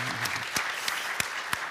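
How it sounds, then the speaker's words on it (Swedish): A small audience at a crime fiction festival claps briefly, a scattered patter of hands with a few sharper claps standing out, fairly faint and short-lived. "Applåd!"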